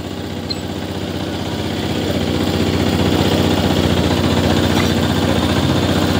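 A motorcycle engine catches and settles into a steady idle, a close, continuous low throbbing chug that grows slightly louder after about two seconds and runs without interruption.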